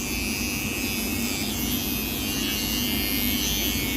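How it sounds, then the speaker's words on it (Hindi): Electric hair trimmer droning steadily and close as it trims away extra hair during a simple haircut, a continuous buzz with no voices. "और ये जो हेयर है एक्स्ट्रा इसको भी ट्रिमर से ट्रिम कर दो।"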